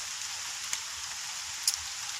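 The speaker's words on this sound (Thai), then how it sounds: "ก็ดูเหมือนฝนจะตกแล้วนะครับ" Light rain falling on a rubber plantation, a steady soft hiss with a few faint isolated drips, quiet and even throughout with no voices.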